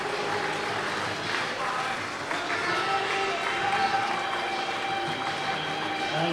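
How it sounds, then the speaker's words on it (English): A small ripple of applause from Poole Pirates speedway fans at a 2024 Championship meeting against Plymouth, heard as a steady wash of crowd noise and scattered clapping that stays level throughout. "I'm sure they will get a small ripple of applause from the Pirates faithful here."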